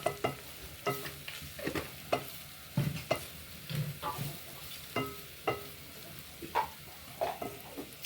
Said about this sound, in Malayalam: എന്നിട്ട് ആ സെൻറ്ററിലിട്ടിട്ട് ഒന്ന് ഇളക്കി കൊടുക്കുക, ഒന്ന് വറുത്തെടുക്കുക ആ മസാല